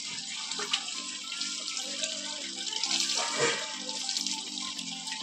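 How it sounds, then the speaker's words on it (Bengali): A tap runs steadily into a sink during washing, a continuous close splashing flow with slight shifts as hands move through the water. "কলটা কমে দেবো"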